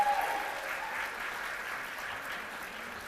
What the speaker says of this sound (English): Let's have one more round of applause for that heartfelt speech,